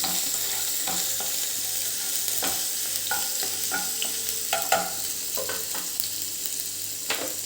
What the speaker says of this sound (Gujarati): ઝીણું સમારેલું આદું અને મરચાંના ટુકડા છે તે એડ કરીશું એને આપણે એક કે બે સેકન્ડ માટે સાંતળી લઈશું